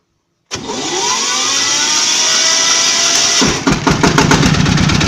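A small walk-behind tractor engine, already warmed up, starts nearby and runs with a steady drone, then settles into a loud, rhythmic chugging beat.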